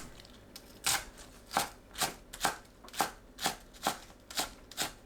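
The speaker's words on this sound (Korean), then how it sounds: "파를 작게 썰어줍니다" A knife chops green onions on a cutting board while making porridge: about ten crisp, evenly spaced chops land roughly every half second, close and clear, with no talking.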